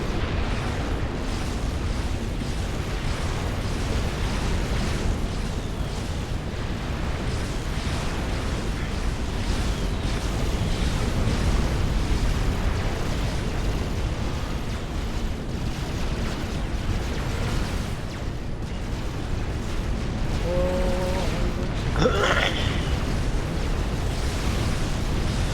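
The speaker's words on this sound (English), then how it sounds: "Dropping some carpet bombing down." Carpet bombing explosions from the video game Supreme Commander: Forged Alliance Forever, with a dense, continuous rumble of overlapping blasts that stays loud and steady throughout, plus a brief higher tone near the end.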